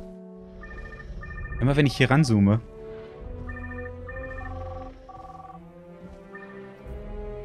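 A dinosaur in Jurassic World Evolution 2 gives off a telephone-like ring, repeated electronic tones in short, regular bursts. Someone talks loudly over part of it.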